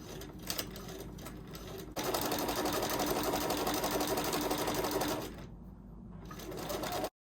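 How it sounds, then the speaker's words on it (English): A sewing machine stitches quilt seams with nested seams held flat, first in brief bursts, then a fast steady mechanical whir for about three seconds before slowing and stopping. "Now I'm going to begin stitching."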